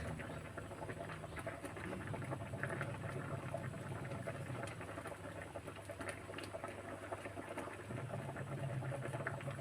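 A pot of Thai coconut-milk curry with catfish and small round eggplant simmering, a faint, steady bubbling and soft popping that goes on for nearly ten seconds with no talking.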